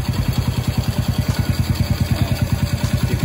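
A Honda Wave 100 motorcycle engine runs steadily in gear with the clutch pulled in, its close, even low putter pulsing in a fast regular rhythm with no voices.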